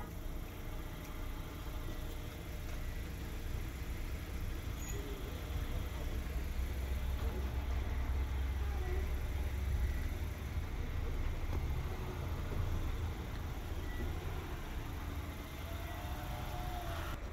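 A used Japanese car engine idles steadily in New Zealand, a low, even hum with a faint mid-range drone, continuous and moderately distant with no talk over it.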